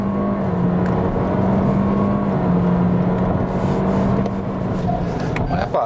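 A Toyota Corolla Sport on a test drive, its engine pulling steadily under throttle with a smooth rising drone mixed with road and wind noise inside the cabin.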